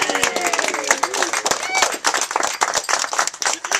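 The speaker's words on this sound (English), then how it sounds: "big round of applause for everybody who's dressed in the theme" A crowd at the Silicon Village camp meeting, March 2014, claps and cheers in a dense burst of applause, many hands close by, with whoops and scattered voices mixed in.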